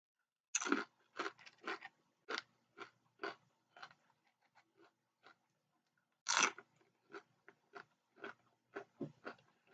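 Crunchy bites and chewing of nachos with nacho cheese and jalapeno peppers, close and quiet, in two bursts of sharp crunches followed by softer chewing, with no talking.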